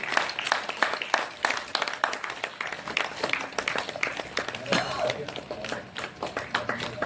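An audience claps steadily at a live event. The applause is dense and moderately loud, with individual claps showing through, and a voice speaks over it.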